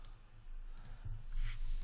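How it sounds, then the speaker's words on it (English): Faint mouse clicks during 3D modelling work in Maya, a few soft clicks over a low background hum with no talking. "And then right click, go to face."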